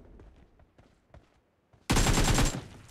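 Gunfire in the video game BGMI: a few faint taps and footsteps, a brief near-silence, then a loud burst of rapid automatic fire lasting under a second.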